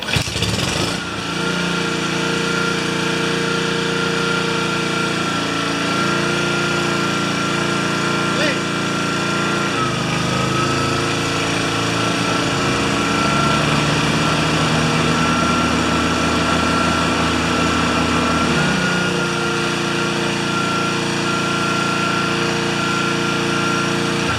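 A Toro Pace mower engine, just repaired after several faults, fires up and runs steadily for the whole stretch, loud and close, its pitch shifting slightly as it settles.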